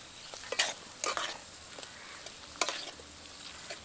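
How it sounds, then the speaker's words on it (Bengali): Spring onion whites and chopped tomato go into a frying pan for chilli chicken, with a soft steady sizzle underneath and a few sharp scraping, stirring clatters of a utensil against the pan. "এখন দিয়ে দেব পেঁয়াজ পাতা সাদা অংশটা, আর দিয়ে দেব টমেটো কুচি।"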